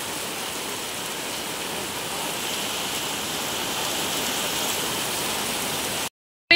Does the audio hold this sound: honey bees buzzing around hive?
no